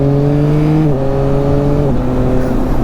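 A motorcycle with a quick shifter accelerates hard nearby, its loud engine drone climbing in pitch and then dropping abruptly at each clutchless upshift, twice in quick succession, with no talking.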